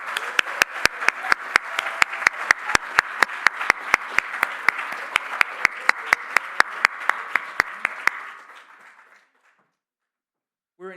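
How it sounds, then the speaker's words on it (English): Audience at a student government inauguration gives a round of applause, a crisp rhythmic run of claps that holds for about eight seconds before tapering off into silence. "please just give him a round of applause."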